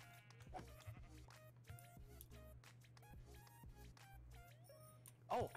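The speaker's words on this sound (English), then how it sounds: "Oh, here's another sheepy." Sheep in the Minecraft video game bleat several times in short game-sound calls over faint background tones.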